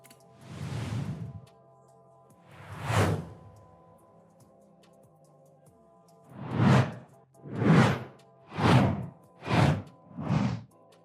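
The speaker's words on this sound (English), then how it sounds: "we're going to have a listen just to see how many different types that we actually have" A series of seven swooshing whoosh sound effects for video editing, starting with two widely spaced passes and then five in quicker succession, each loud and close with no talk.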